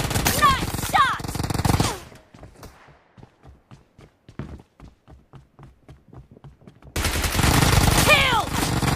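Rapid gunfire crackles in a fast team-match shooter game, bursts of sharp close shots and quick footstep-like taps, framed by louder game announcer voice and music at the start and end.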